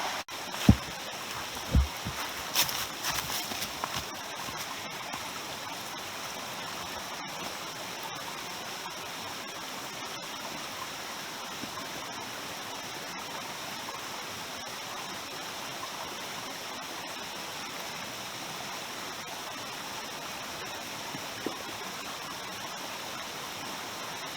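Steady creek water rushes and flows without a break at a hiking crossing on the Lower Otter Creek loop, a constant broadband wash with a few faint knocks near the start.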